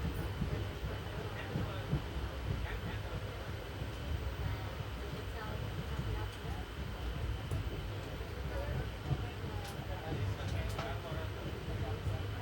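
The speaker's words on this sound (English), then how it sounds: "Here we are pulling into Kirloskar Wadi station." The Koyna Express, an Indian passenger train, slows into Kirloskar Wadi station with a steady low rumble of carriages and faint metallic clicks, while someone talks over the noise.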